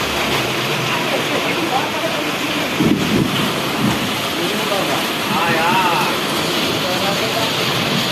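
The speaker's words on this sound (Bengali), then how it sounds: "এই দেখো জোরে বৃষ্টি পড়ছে" Heavy rain pours in a sudden downpour, a loud, dense roar of drops on surfaces, with a voice speaking briefly over it and a faint distant rumble.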